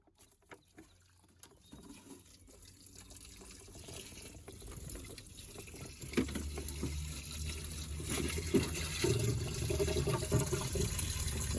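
Engine coolant drains from a pulled hose into a bucket during a Jeep Chrysler thermostat swap, starting as faint drips and building into a steady, louder splashing pour that continues to the end.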